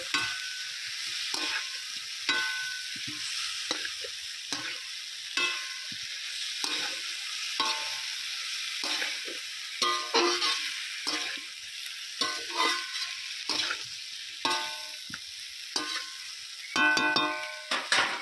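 Fried cauliflower and potato being stir-fried with spices in a pan: repeated rhythmic spatula scrapes and stirs over a moderate sizzle, close and continuous.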